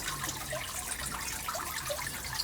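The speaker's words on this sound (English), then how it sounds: "And this is the last bit of water coming out." The last water drains out of an emptied outdoor stock pond, a steady low gurgle and splash that keeps going throughout with no voices.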